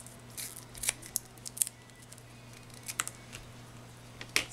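Scissors snip through card stock while trimming a handmade card, a few sharp, close cuts scattered irregularly over a quiet room hum.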